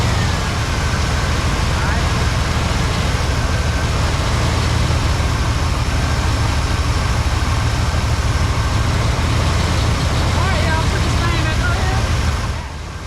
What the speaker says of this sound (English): So we're about to crank it up.